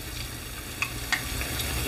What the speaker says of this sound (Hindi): अब इन टिक्कियों को मैं इसी में पलट दूंगी ताकि ये दूसरी तरफ से भी अच्छी तरह फ्राई हो जाएं